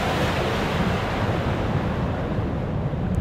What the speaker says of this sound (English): and the water is being filled here.